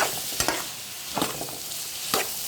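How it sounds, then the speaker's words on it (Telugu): Brinjal pieces frying in a sand whiting fish curry are stirred in the pan, a steady close sizzle broken by three or four scraping stirs, with no voices. "ఇవన్నీ చక్కగా వంకాయ ముక్కలు అవన్నీ కలిసేలా ఫ్రై అయ్యేలాగా కలుపుకోవాలి."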